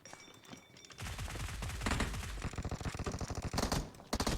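Rapid gunfire bursts and automatic weapon fire in a multiplayer shooter video game crackle steadily for several seconds, loud and continuous with choppy repeated shots and no talk.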